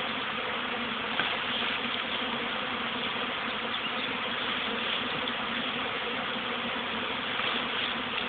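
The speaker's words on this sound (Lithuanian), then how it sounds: "O, kiek bičių." A swarm of bees buzzes around a house in a dense, steady drone, loud and continuous throughout with no breaks or voices.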